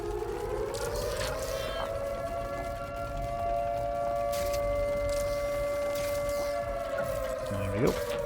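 A sustained air raid style siren wail in the video game Watch Dogs Legion holds a steady droning tone with harmonics, then winds down near the end amid ambient game sounds.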